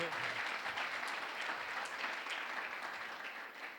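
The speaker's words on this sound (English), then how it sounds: "I want a round of applause for that" Sustained audience applause at a closing ceremony, heard faintly as if from a distance, a steady wash of many hands clapping that slowly eases toward the end.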